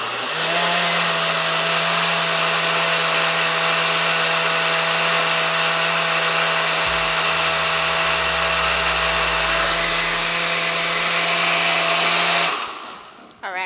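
A kitchen blender whirs loudly and steadily while blending a smoothie, a constant close motor drone with a low pitch shift partway through, then it switches off abruptly near the end.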